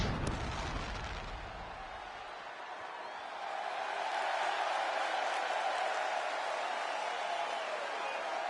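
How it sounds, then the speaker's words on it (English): Arena crowd noise in the wrestling game WWE 2K26: a steady, loud roar of cheering fans that swells partway through, alone and without talk. "The crowd is on its feet."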